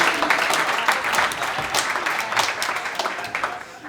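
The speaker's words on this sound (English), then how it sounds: "Clap at him!" Live audience at a talk clapping as someone walks up to the microphone, brisk dense applause that gradually thins and fades toward the end.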